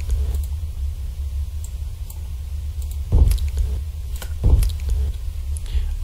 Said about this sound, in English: mouth sounds that you don't want.